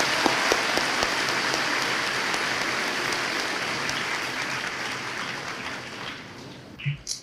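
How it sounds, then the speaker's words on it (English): Audience at a middle school Veterans Day ceremony applauding veterans, sustained even clapping from a large indoor crowd that gradually thins and fades toward the end. "Let's give our veterans one more big round of applause."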